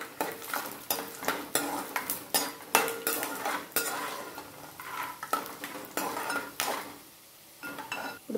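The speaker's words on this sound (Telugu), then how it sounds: "పల్లీలు దోరగా వేయించేసుకొని పక్కన పెట్టేసుకుందాం." Peanuts roasting dry in a metal pan while a spatula stirs them, giving steady scraping clinks and rattles in an irregular rhythm, close and fairly loud, with no talking.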